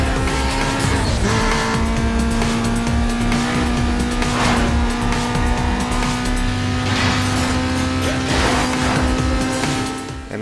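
A Lotus race car in Need for Speed: Most Wanted holds a loud, steady engine drone throughout, with repeated bursts of tire squeal as it slides through corners.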